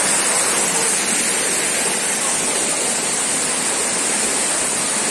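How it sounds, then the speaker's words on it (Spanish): The Siloé waterfall rushes in a loud, steady, unbroken roar of falling water, close and continuous, with no voices. "La cascada con el nombre de Siloé"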